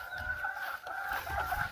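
Chickens cluck and murmur inside a chicken house, a soft, steady chorus of overlapping calls, faint and close-knit with no talking.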